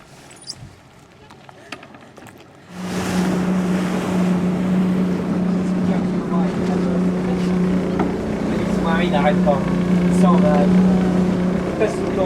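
A quiet interior with faint sounds, then a 175 hp V6 outboard engine on a Shetland 4+2 motorboat starts and hums steadily with a low drone, muffled as if heard from inside the cabin.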